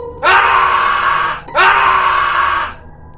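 A scream in a horror story narration, two long loud shrieking cries one after the other, close and intense.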